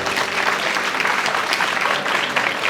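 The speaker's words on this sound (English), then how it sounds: "So she deserves a round of applause from all of us." An audience at a university talk breaks into applause, a thick continuous roar of clapping from a large crowd, loud and even throughout the short stretch.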